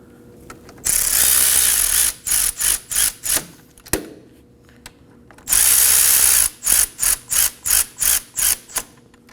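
A tool snugs the front brake bolts on a 2011-2016 Kia Optima: two long bursts of rapid clicking, each followed by a run of short, evenly spaced ratcheting strokes, close and loud.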